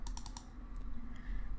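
Computer mouse double-clicking on a desktop, a quick pair of crisp clicks followed by a few lighter clicks, close and clear over faint room hum.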